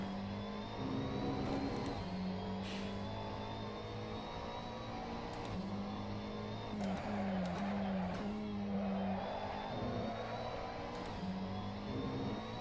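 A GT3 race car engine in Assetto Corsa pulls hard at the Sochi circuit, revving up through the gears with rising whines and short dips between shifts, continuous and close.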